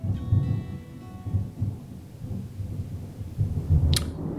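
Thunder rolls in the video game Deadly Premonition 2, a deep low rumble swelling and fading in waves, with a short sharp crackle near the end.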